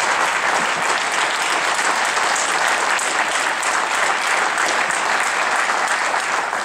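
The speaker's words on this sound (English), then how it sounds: "Ladies and gentlemen, one more round of applause, please, for these amazing musicians" Sustained, dense applause from a concert audience for an honor band of student musicians, loud and even throughout with no talking over it.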